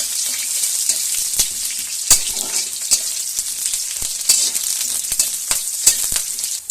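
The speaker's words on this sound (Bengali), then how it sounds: "এবার দিয়ে দিচ্ছি একটু পেঁয়াজ কুচি এবার একটু ভাজা ভাজা করে নেব" Chopped onion frying in hot oil with dried red chillies, bay leaf and five-spice seeds, a continuous bright sizzle with frequent sharp crackles and pops throughout.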